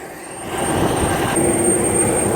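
Steady airliner engine drone heard from inside the cabin while boarding a flight home, a broad continuous roar rising slightly after the first half second and holding level, with a faint high whine above it.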